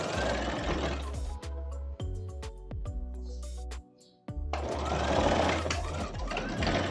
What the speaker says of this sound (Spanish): Esta unión lo trabajamos con puntada recta, dando un atraque al iniciar y al terminar.